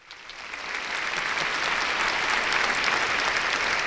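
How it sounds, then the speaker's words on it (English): Applause from an audience rises from a light start into sustained, dense clapping that holds steady and fairly loud throughout. "Another pause for applause"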